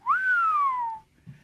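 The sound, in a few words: person whistling, imitating an impressed whistle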